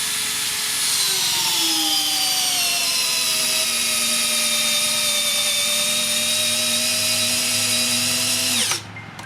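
Makita 40v hammer drill in gearbox speed 1 at torque setting 41, driving a long landscape screw into wood: a loud, sustained whine, its pitch sinking slightly as the screw bites, ending abruptly as the clutch cuts off.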